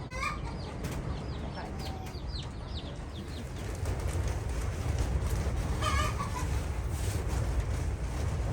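Small high-pitched chick peeps come in scattered bursts, mostly early and again midway, over a constant low rumble of wind.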